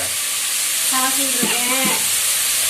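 Potatoes frying in a pan, a loud, continuous close sizzle and hiss that runs steadily throughout, with a person talking briefly over it in the middle.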